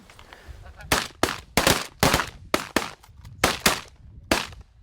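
A rapid volley of shotgun blasts fired at geese during a goose hunt, about eight sharp, loud reports in quick irregular succession, some doubled, each with a short decaying tail over faint background noise.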